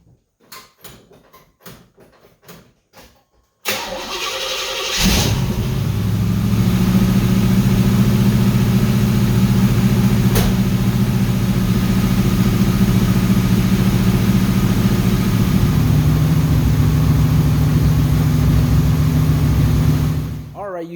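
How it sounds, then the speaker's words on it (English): A 1978 Chevrolet Monte Carlo V8 with a freshly filled carburetor cranks briefly, then catches and settles into a loud, steady idle that runs on close by for about fifteen seconds. "Let's see if the motor starts up right away."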